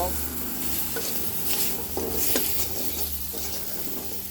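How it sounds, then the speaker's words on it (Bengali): Salt, turmeric and coriander powder frying in a pan for a fish curry with new potatoes and lentil dumplings, stirred with scraping strokes over a steady close sizzle, occasional utensil knocks against the pan. "সব কিছু একসাথে সুন্দর করে ভেজে নেব"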